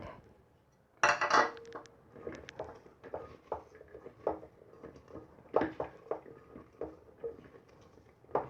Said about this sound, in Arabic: خلطنا كويس البصل في الفلفل الاسود